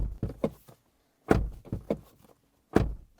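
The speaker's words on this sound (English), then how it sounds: "And this is our door slam." A 2024 Hyundai Ioniq 5 N door is shut several times in a row, each one a solid, muffled thunk with short gaps of quiet between them.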